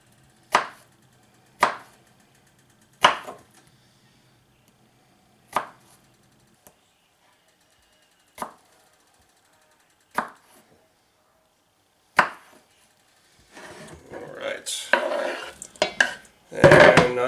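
A knife chops vegetables for chicken and dumplings tortilla soup: sharp, close single knocks spaced a second or two apart, then a denser flurry of cutting and clattering on the board toward the end.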